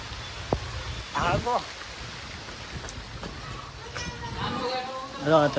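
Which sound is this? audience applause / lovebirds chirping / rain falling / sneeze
rain falling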